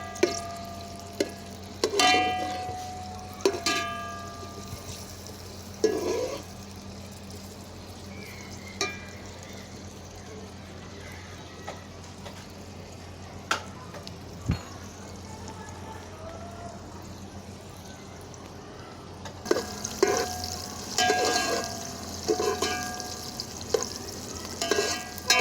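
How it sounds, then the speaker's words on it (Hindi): Onions fry and brown in a pot for village-style chicken yakhni pulao, a soft continuous sizzle under intermittent clinks and scrapes of stirring, louder bursts near the start and end, with a faint background hum. "अब प्याज ब्राउन कर रही हूँ।"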